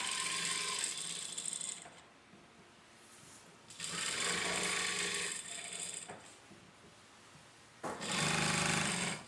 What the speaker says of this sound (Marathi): इथून आपला गॅप सोडला होता तिथूनच शिलाई स्टार्ट करा